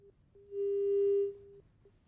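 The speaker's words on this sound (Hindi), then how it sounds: "लगता है मोहसिन रजा का फोन कट गया" A single steady electronic tone from a dropped phone line, a faint short beep followed by one long clean tone of about a second, then short faint beeps trailing off, with no one speaking.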